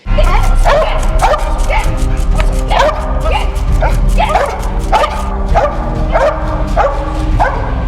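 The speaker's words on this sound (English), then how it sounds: "the dogs' aggressive bark just freaks me out" Several dogs bark and yip repeatedly and loudly, close by, with whimpering mixed in over a steady background rumble.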